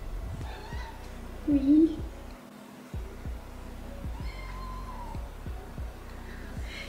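A house cat gives a short, close meow indoors during an at-home makeup session, rising briefly over a woman's French speech and soft handling noises.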